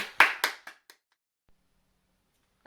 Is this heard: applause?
yes